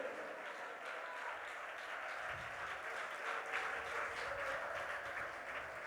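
Church congregation applauding at a Malayalam Christian worship service, a steady, dense wash of clapping that fills the whole stretch at moderate distance, with no clear voices on top.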